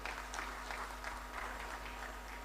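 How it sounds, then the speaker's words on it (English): Faint, moderate applause from an audience at a celebration of African leadership, a few seconds of light clapping heard somewhat distant with a steady low hum underneath. "A round of applause for her."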